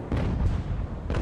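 Ship cannon fire in the naval game Ultimate Admiral: Age of Sail: a dense, rumbling barrage of booms, loud and continuous, with sharper blasts at the start and near the end, and no talking.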